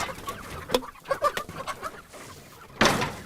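Free-range chickens on a pasture farm give a quick run of short, close clucks and chirps, broken by a brief pause before a louder burst of squawking at the end.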